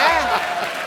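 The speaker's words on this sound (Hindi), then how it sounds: "जोरदार तालियां" Studio audience applause on a Hindi comedy talk show, a brief dense burst of clapping under a loud presenter's voice.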